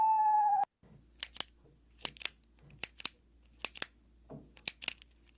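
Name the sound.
pen clicking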